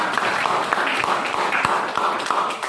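Students in a biology class on Mendel's laws clap for a classmate's question, a moderate burst of scattered applause with a few sharper individual claps standing out in a room.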